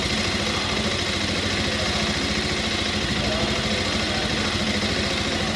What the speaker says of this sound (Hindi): तो इंजन का साउंड एक बार हम फिर से सुनते हैं